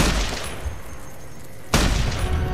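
Two sharp gunshots from a weapon loaded with armor-piercing rounds in Fallout New Vegas, one at the very start and a louder one about two seconds later, with a quiet tail between them and no talk.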